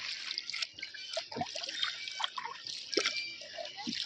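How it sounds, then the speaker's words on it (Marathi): Close splashing and dripping of cold water as a hand moves through it, with light sloshes and trickles over continuous hiss. "आता पाण्यात हात घालू दे हा थंड गार पाणी आहे"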